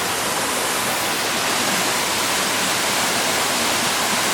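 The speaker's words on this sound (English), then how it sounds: "I've come to this really pretty waterfall called Barrajam Falls on a feeder creek." Barrajam Falls, a waterfall on a feeder creek, pours with a steady, dense hiss of rushing water, close and unbroken throughout.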